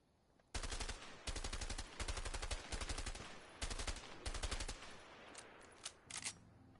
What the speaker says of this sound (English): M16, burst fire assault rifle